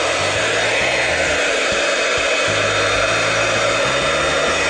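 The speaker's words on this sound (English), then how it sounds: "I'm going to get my heat gun," A heat gun roars steadily at close range, a loud continuous blowing hiss with a low motor hum that wavers slightly throughout.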